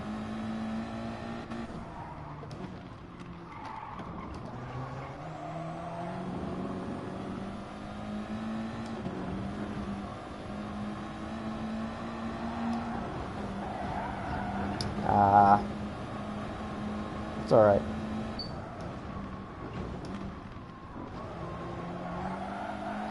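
Porsche GR4 race car in a racing video game on the Nordschleife, its engine droning steadily with shifting pitch through gear changes, two brief sharp bursts midway, with someone talking over it throughout.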